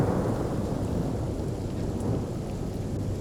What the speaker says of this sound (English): Jahan can probably cast Rain.